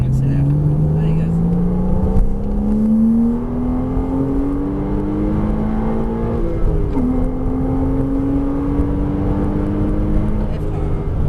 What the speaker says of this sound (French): Tu peux élargir et on accélère